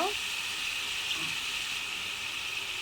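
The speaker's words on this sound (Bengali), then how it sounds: "আলু বেগুনটা একসাথে ভেজে নিব।" Potato and eggplant pieces frying together in a little oil give off a steady, even sizzle that stays close and constant throughout.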